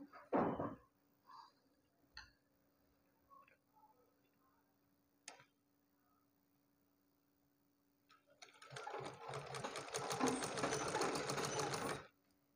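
A sewing machine stitching a blouse runs in a fast, rattling burst for several seconds near the end, after a quiet stretch of scattered light clicks and taps.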